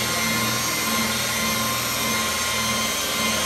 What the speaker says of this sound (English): And then start buffing it in. Keep your buffer moving.